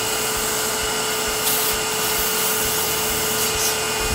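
Sandpaper of 220 grit is rubbed lightly by hand over a small wooden Christmas ornament, a close, continuous abrasive hiss with faint rhythmic strokes under a steady background whine.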